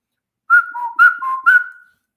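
Someone whistles a short, clear five-note phrase that steps between a higher and a lower pitch. The final tone lingers briefly, and the whistling stands alone against silence.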